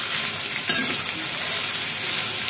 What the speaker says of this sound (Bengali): তো এগুলো একটু হালকা করে ভেজে নিব